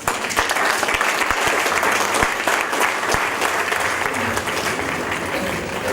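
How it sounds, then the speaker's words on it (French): Warm, sustained applause from a crowd gathered at a town hall in Thann, dense clapping filling the room steadily for several seconds, with a few voices mixed in. "On peut l'applaudir."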